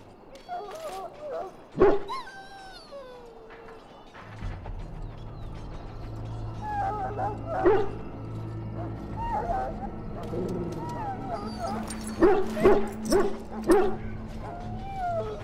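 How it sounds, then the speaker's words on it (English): In the fantasy game Dragon Age Origins, a dog whimpers and gives several short yelps and barks, scattered across a quiet scene with background game ambience and a low drone joining midway. "Now I can treat the dog properly, poor fella."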